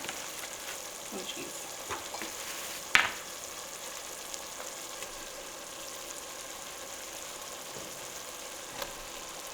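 Leftover turkey dish with turkey broth simmering in a pot, a faint steady bubbling sizzle running throughout, with a sharp clatter early on and a brief voice murmuring.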